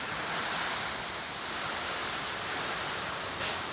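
Strong wind and heavy rain during a typhoon roar as a dense, constant rush with no pauses, loud and close throughout.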